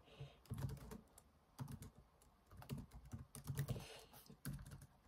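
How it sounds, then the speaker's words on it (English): Typing on a computer keyboard, close and soft, with irregular clusters of key clicks and thumps across a few seconds and no talking. "I can type it out here."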